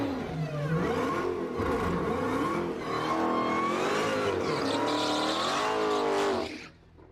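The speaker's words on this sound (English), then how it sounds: "I was getting nervous with the burnouts" A car does burnouts on a road track, its engine revving hard and rising and falling in pitch while the tires squeal loudly and continuously before the noise suddenly drops away at the end.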